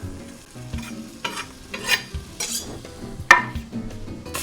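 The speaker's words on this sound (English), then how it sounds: "I'm just gonna brown these up a little bit" Lean meat pieces browning in a pan for bean soup, a close sizzle broken by repeated scraping and clattering stirs, with a sharp clink near the end.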